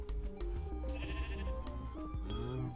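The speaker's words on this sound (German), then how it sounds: "Das braune Schaf muss auf jeden Fall noch mit, das ist ein seltenes." A sheep in the Minecraft video game bleats repeatedly, several wavering synthesized-sounding bleats close and loud over a steady low background hum, with no talking.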